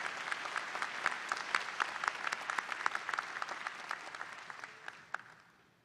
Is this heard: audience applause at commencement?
yes